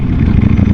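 A Ducati Panigale V4 superbike is ridden on a hot road, its engine running loud and close in a brief, continuous rumbling burst.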